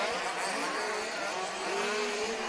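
Large scale off-road RC racing cars in a European championship final, several engines whining together in a dense, continuous high buzz with rising and falling pitches, no voices.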